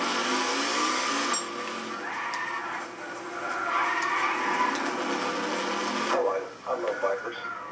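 Car in a Gran Turismo 6 online drag race with a high-revving engine that climbs through the gears, drops sharply at a shift and then revs again. Someone talks over it.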